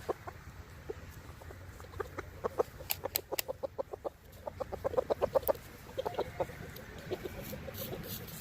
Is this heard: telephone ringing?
no